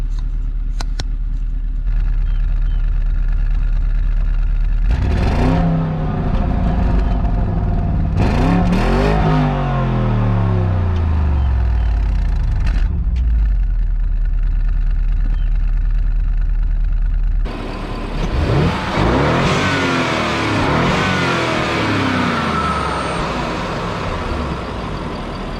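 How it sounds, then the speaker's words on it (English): A 2019 Porsche Cayenne Turbo's exhaust blares through repeated throttle blips over a steady idle, each rev rising and falling, then a sustained louder roar near the end, close and with no talking. "Let's go ahead and set up for the exhaust as well."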